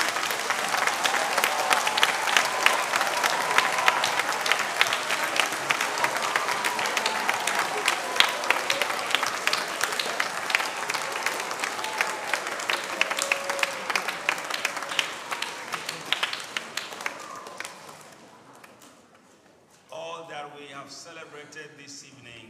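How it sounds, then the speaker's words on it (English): Children clap for their teachers and parents at a Christmas gathering, producing a dense, sustained burst of applause with crowd voices mixed in that tapers off near the end, followed by quieter sounds. "Children, can we clap for our teachers and parents?"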